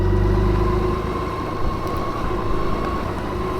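A BMW K1600 GTL touring motorcycle rides slowly, giving a steady, smooth engine drone with rumbling wind and road noise throughout, no talking.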